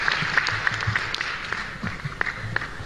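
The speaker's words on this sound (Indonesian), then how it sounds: "Tepuk tangan buat Angkatan Udara kita." Audience applause for the Indonesian Air Force at a stand-up comedy show, a thin, fairly quiet patter of clapping spread across the room with a few sharper hand claps standing out.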